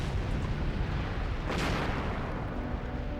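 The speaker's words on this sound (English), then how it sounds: "On November the 13th came the first massive explosion of steam and ash." A volcano erupts in a massive explosion of steam and ash, heard as a dense, continuous roar with a brief burst midway and no talk.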